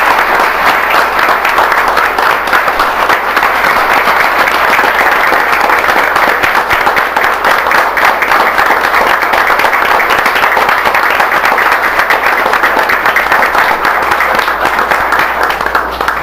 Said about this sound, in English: if you would join me in giving a big round of applause to Mr.